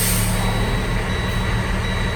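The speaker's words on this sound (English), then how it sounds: "now I'm going to check my trailer brakes by releasing my parking brakes" Air parking brakes released on a dump truck, heard from inside the cab as a continuous, loud hiss over the low rumble of the idling engine.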